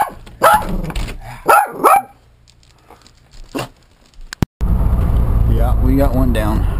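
A dog barks outdoors during a fierce windstorm, several sharp barks mixed with a person talking, then heavy roaring wind and rumble take over.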